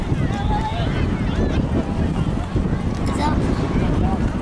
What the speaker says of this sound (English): I'm just marveling at how windy it is.